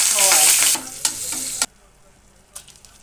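Potato pieces with curry leaves frying in hot oil for a chutney: a loud, bright sizzle with a few sharp stirring clicks, then it suddenly drops to near quiet with a faint crackle.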